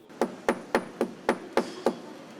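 Hammer blows while clearing away the old surface of a stone building facade, seven evenly spaced sharp strikes at a steady rhythm, close and distinct, with no voices.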